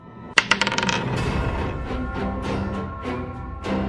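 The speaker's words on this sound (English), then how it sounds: "Let's roll a die." A die is rolled in a tabletop card-game session: a sharp clatter and quick run of bouncing clicks that settle within about half a second, followed by a steady background bed with faint sounds.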